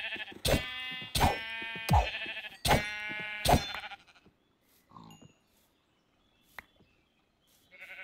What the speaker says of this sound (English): That is a lot of sheep. I gotta kill at least some of these.